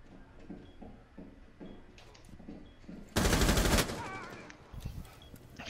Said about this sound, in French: Je tire à travers le mur en plus exprès